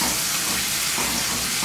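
Pork pieces, still partly frozen, searing in a hot pan, giving a steady loud sizzle and hiss close by with no talking.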